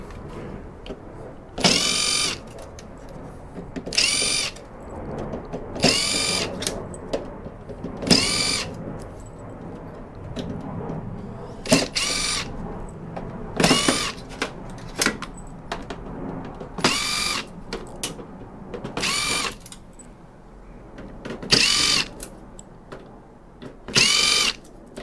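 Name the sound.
removing torx screws from scrap electronics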